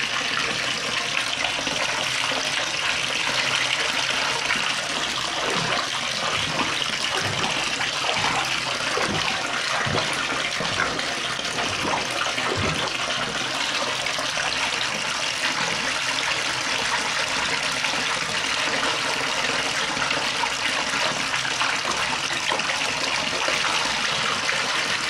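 Bath water with foam from a bath toy test, a continuous broad rush of running and churning water held at an even, loud level throughout, with no voices.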